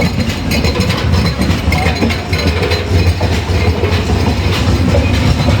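A Bangladesh Railway train arriving at a station, a loud close rumble of rolling wagons with rhythmic wheel clatter and engine drone filling the whole span.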